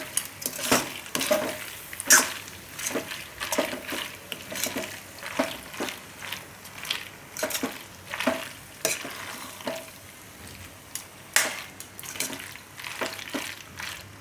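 Stirring palak (spinach) pasta with melting cheese in a pan, steady rhythmic scraping and squelching strokes repeated every half second or so over a soft sizzle, close and clear, with no talk.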